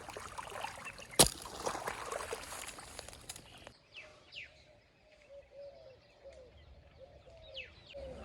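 Birds chirp intermittently in a quiet village morning under cloudy skies, some calls distant, after a brief sharp knock and rustling at the start.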